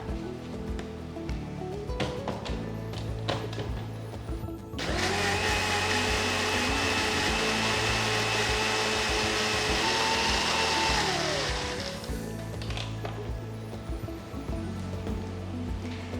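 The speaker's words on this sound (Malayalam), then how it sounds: "ഇതിലേക്ക് കുറച്ച് വെള്ളം കൂടെ ചേർത്ത് ഒന്നുകൂടെ ഫൈനായിട്ട് അരച്ചെടുക്കാനായിട്ടുണ്ട്" A mixer grinder blends a spice paste of mustard and cumin with added water, giving a strong continuous whir lasting several seconds that rises in the middle of quieter background music and then cuts off.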